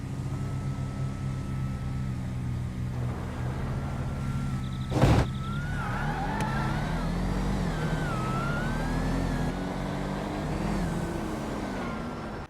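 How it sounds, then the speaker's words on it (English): A car in a GTA V drag race spins its wheels off the start line, giving a loud, sustained engine roar with rising, wavering whines and a brief sharp burst partway through. "Once again, Dolph spins the wheels"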